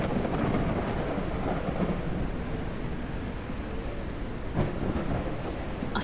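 A video-game thunderstorm, with continuous heavy rain and deep rolling thunder swelling and fading throughout, a louder crack near the end, steady and close with no talking.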